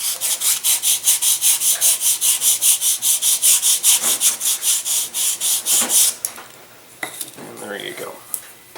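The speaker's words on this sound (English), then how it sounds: "and sand it a little" Sandpaper rubbed back and forth along the 45-degree beveled hinge line of a Carbonette 12 R/C boost glider wing, about twenty steady rasping strokes close up, then stopping with light handling noises.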